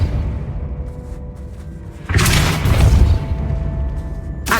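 Depulso spell cast in Hogwarts Legacy, a sudden heavy boom-like force blast that bursts in midway and rumbles on loudly for about a second over low background ambience.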